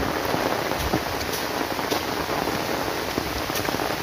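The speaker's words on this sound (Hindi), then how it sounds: "इतना ज़्यादा बारिश होने से" Heavy rain drums on a paddy field during rice transplanting, a loud, dense, unbroken wash of drops close to the microphone with no voices.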